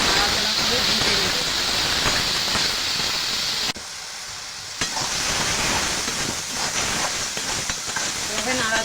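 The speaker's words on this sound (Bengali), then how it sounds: "এভাবে নাড়াচাড়া করে অনেক সময় ভেজে নিতে হবে, ভাজা ভালো না হলে ভালো লাগবে না" Spices and ridge gourd korma base being stirred and fried in a pan: continuous close sizzling and hissing with scraping stir strokes, briefly dipping quieter midway before resuming.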